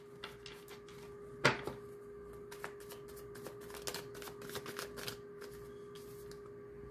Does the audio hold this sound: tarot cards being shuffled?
yes